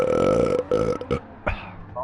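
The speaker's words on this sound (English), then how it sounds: "That was a really nice burp" One long, loud, close-up burp rumbles for about a second, then trails off into a couple of shorter, broken gulps of air.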